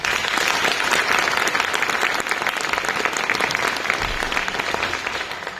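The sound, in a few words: audience applause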